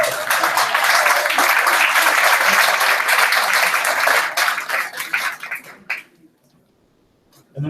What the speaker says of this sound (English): Would you give Lynn a round of applause?